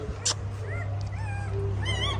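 A newborn German Shepherd puppy whimpers in a few thin, high squeaks and whines, close up, over a low steady hum.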